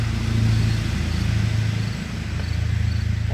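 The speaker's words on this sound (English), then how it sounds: "The truck again is noisy." Truck rumbling past a home vegetable garden in the morning, a steady low engine drone that swells, dips briefly and returns, fairly loud and continuous with no talking.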